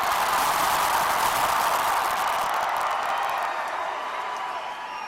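A large crowd at a Bernie Sanders rally in Oklahoma City cheers and applauds, a dense, loud wash of clapping and shouting that fades slightly toward the end.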